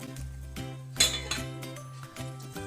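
A bowl holding chocolate set down onto a metal pot over boiling water, with a few sharp clinks and rings of ceramic and metal.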